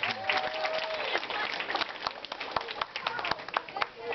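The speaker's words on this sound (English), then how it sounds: "why not give them a round of applause?" An audience claps throughout, many hands in a dense, lively patter with some louder nearby claps, while faint voices mix in underneath.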